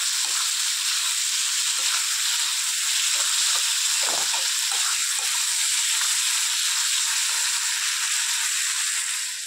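Chopped tomatoes go into a hot pan of egg curry and sizzle loudly and continuously, a close, dense hiss with faint scrapes of stirring underneath.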